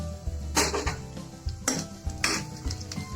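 Cut green chillies frying in oil in a pan for sago khichdi, with a soft sizzle underneath and several distinct scraping stirs of a spatula against the pan, close by.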